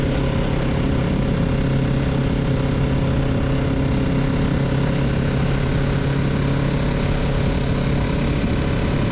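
A 2024 Kawasaki Z650RS motorcycle engine pulls steadily up a steep hill, a loud, continuous droning hum with an even pitch and no voices.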